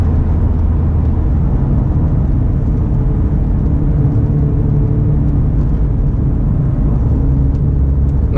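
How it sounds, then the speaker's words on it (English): An Acura NSX corners at the Towne Lake Cars and Coffee meet in Houston, a steady low engine and road rumble that holds level throughout, with no voices. "Nice little curve action here in the NSX. Putting that torque vectoring to use."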